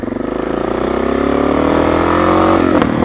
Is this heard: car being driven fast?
yes